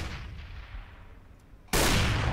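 Counter-Strike match between Flipsid3 and Fnatic on Cobblestone: an AK faces an MP9, faint ambient game noise suddenly giving way to a loud, sustained burst of close gunfire that lasts to the end.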